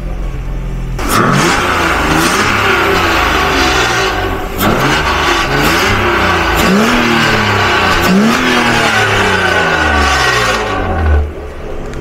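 A BMW drift car engine revs repeatedly, rising and falling in pitch, loud and close, with no talking.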